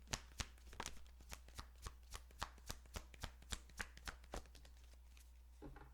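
A deck of oracle cards is shuffled by hand in a steady run of crisp, evenly spaced riffling taps, close and clear, ending with a card being drawn.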